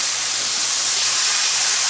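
Loud, continuous hissing sizzle of water brushed onto a hot Lodge cast iron grill griddle, a steady wash of steam noise with no breaks, very close.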